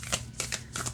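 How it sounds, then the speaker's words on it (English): Odd-shaped tarot cards from The Wild Unknown Alchemy deck shuffled by hand, three quick riffling bursts close up over a soft background hum. "let's see how they shuffle this way"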